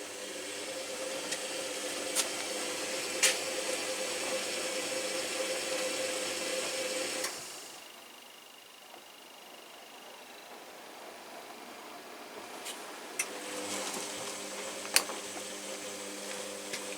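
A CDA washing machine runs a wash cycle with a steady mechanical hum and whir, dropping to a quieter pause midway before the motor picks up again with faint clicks and knocks.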